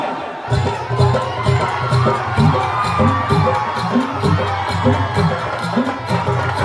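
A festive crowd at a Govinda celebration in Dhangar Ali, Roha, cheers and shouts continuously over loud booming DJ music, with whoops rising from the mass of voices throughout.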